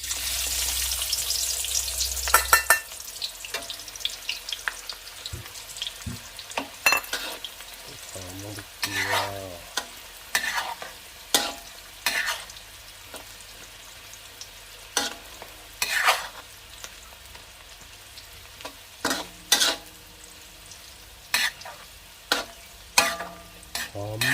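Shallots and garlic sizzle and crackle steadily in a hot pan, with repeated clinks and scrapes of a utensil stirring, close up and without talk.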